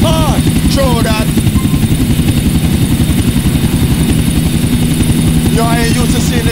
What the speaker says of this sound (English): I ain't used to seeing the Star Junction from a helicopter